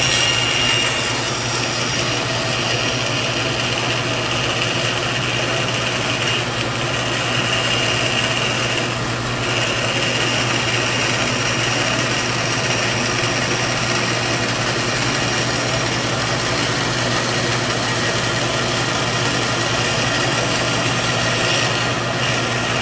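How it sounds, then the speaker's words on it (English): A bandsaw cuts a wooden ornament pattern, its steady motor hum and blade whine running loud and unbroken, with no talking. "now we'll use the bandsaw to cut this out"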